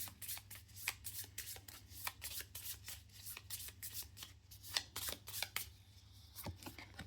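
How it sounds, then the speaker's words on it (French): A deck of cards shuffled by hand during a solo game of the Kinfire Delve board game, a run of quick riffling snaps and soft flicks close by, with a low steady hum beneath. "Je mélange mon deck."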